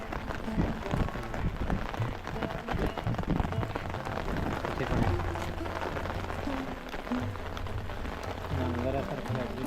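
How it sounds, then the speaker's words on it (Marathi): Dense, continuous patter of monsoon rain falling on surfaces in Mandangad, Konkan, with muffled voices talking underneath at moderate distance. "पाऊस पडतोय"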